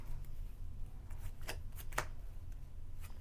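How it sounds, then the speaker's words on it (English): A deck of playing cards being shuffled during a Star Wars Unlimited tabletop game, soft riffling texture with several sharp flicks, close and quiet over low background hum. "I just have to like shuffle"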